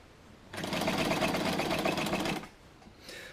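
A sewing machine stitches a fabric seam on a dart bag in one fast, steady burst of mechanical whirring about two seconds long. It stops abruptly, and a faint rustle of material follows.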